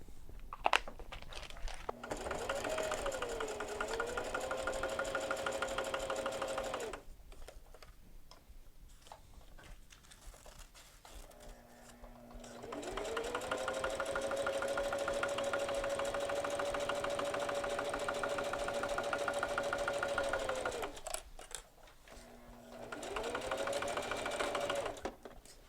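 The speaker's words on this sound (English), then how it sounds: "you're going to sew down a straight stitch using a 1/4 inch seam allowance." A sewing machine runs a straight stitch along a tote bag seam in three sustained close runs of rapid mechanical chatter, with brief pauses between them.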